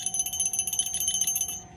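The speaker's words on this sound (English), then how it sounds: "It's a bell." A small metal bell rings in a quick, steady run of about twenty strikes, each leaving a clear high metallic tone, fairly faint and close, with no talk.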